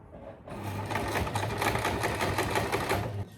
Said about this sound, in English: So we can get the sewing machine back out.